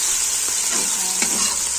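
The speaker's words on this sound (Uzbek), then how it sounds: "Qozonimizga yog' solib, birinchi bo'lib piyozni solib qizartirib olamiz" Onions fry in oil in a cooking pot with a steady, close sizzle, broken by a couple of soft stirring scrapes.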